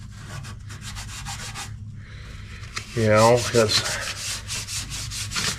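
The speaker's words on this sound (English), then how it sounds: "get down in the crack and scuff there, and then I'm going to come up on the outside and just smooth it up a little" Sandpaper scuffing the body of a 2002 Ford F350 truck before red paint, a steady dry rubbing that runs throughout and swells louder partway through, close and continuous, with a brief spoken word over it.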